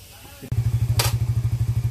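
Suzuki GSX-R ABS motorcycle engine idling nearby, a steady rapid thumping pulse that starts abruptly and runs evenly, with a brief hissy burst partway through.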